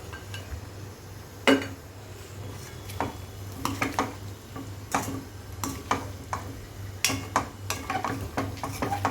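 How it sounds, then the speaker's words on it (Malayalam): Chicken roast (kozhi perattu) being stirred in a pan: a spatula scrapes and clinks against the metal in irregular strokes over a steady low hum, with soft sizzling beneath and no talking. "നന്നായിട്ട് ഇളക്കി കൊടുക്കാം."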